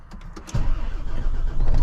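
A car engine cranks briefly and then catches, settling into a steady, close idle rumble with no talking.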